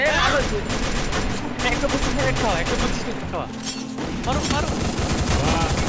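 Rapid bursts of gunfire from a multiplayer shooting video game, with dense overlapping automatic shots crackling almost continuously and loud, shot after shot layered over busy game noise.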